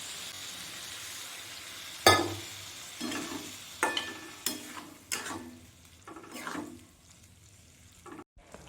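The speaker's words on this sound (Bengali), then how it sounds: "ভালো করে মশলার সাথে নাড়িয়ে চাড়িয়ে নিয়েছি।" Okra curry being stirred with spices in a pan, giving a run of separate scraping strokes, loud at first and then softer, with a light sizzle under them and no talking.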